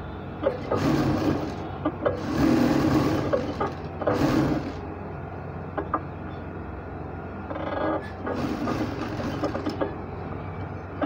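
A sewing machine runs a double stitch along a trouser seam from the landing end to the crotch point, whirring in several bursts with short pauses between runs.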